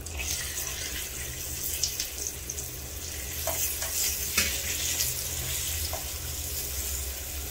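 Red and green chilies are sautéed in hot oil for hotel-style tiffin sambar, giving a steady bright sizzle with a few soft stirring clicks, close and continuous.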